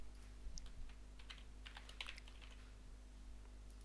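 Faint, quiet keystrokes on a computer keyboard as a second word is typed during a graphic design lesson, a few soft taps scattered over a low steady hum.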